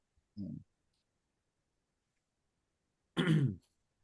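Two separate bursts of throat clearing and coughing, a short one near the start and a louder, fuller one about three seconds later, close and isolated against near silence.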